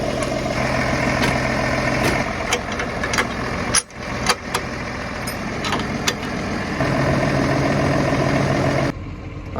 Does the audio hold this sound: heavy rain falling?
no